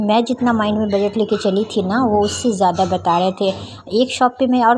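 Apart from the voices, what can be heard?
No everyday noise stands out behind the speech.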